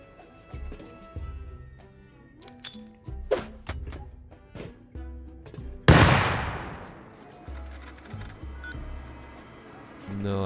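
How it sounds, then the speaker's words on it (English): Rust auto turrets triggered by an explosion: scattered clunks and mechanical clicks lead into a loud blast, followed by ringing decay and further sharp bursts of turret fire; a voice talks faintly beneath. "have the auto turrets turn on when they detect an explosion"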